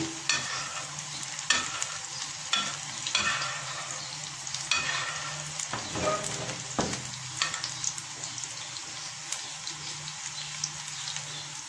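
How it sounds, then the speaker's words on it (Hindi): Minced meat fries in a pan with onions pushed to one side, a steady crackling sizzle punctuated by repeated scrapes and taps of a spatula, close and moderately loud. "I fry the mince."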